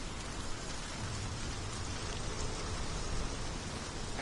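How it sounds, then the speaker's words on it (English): Steady rain falling in the Hellblade video game, a dense, even hiss of droplets without pause, moderately quiet and with no voices. "he blames the rain sounds for making him sleepy"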